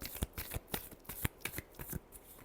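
Tarot cards being shuffled by hand, a quick, close sequence of soft riffling slaps and flicks at an irregular rhythm, quiet and alone.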